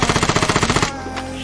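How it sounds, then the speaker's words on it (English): An automatic weapon in the video game Vigor fires about a dozen rapid, evenly spaced shots in a tight burst, then stops abruptly and leaves a faint ringing tail. "This thing shoots so fast."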